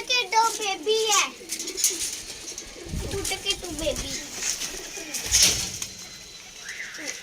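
Pigeons coo nearby in soft, throaty rolling calls, with a brief flutter of wings and a voice speaking faintly in the background.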